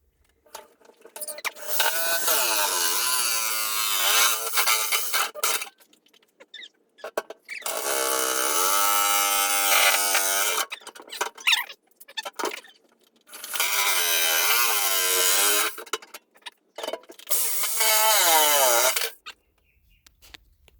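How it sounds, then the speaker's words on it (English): Power nibbler cutting sheet metal for a fuel system, several sustained loud bursts of rapid mechanical chattering separated by short pauses, with no talking. "I've got a nibbler. Now I'll just join the dots."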